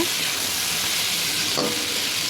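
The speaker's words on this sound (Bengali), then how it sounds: "লবণ দিয়ে একটু নাড়াচাড়া করে নেব।" Vegetables frying with salt in a pan, a steady close sizzle with a brief scrape of stirring partway through.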